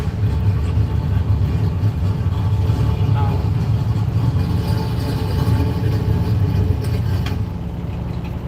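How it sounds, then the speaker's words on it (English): A car engine runs steadily with a low, even rumble and idle throughout, while people talk over it nearby. "Damn, that car sounds good, Joel."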